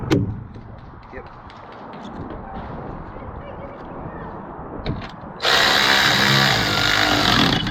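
Bolts are tightened on a ladder rack fitted to a Chevrolet Astro van, with short mechanical clicks and rattles followed by a sudden loud, sustained power-tool whir, under brief talk.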